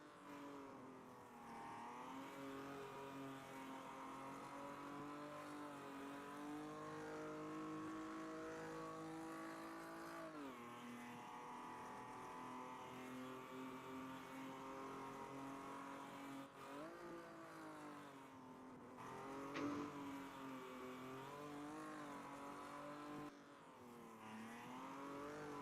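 Race car engines in the Automobilista 2 racing video game hold a sustained, loud drone through the whole stretch, pitch rising and falling with gear changes and corner exits, with brief lifts and a sharp blip near the end.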